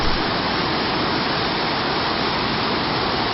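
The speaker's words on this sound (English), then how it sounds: "follow the raging river along its path, all the way to the brink of the fall" A Yosemite waterfall and raging river roar in a dense, unbroken wash of white noise, loud and close, with no other sounds.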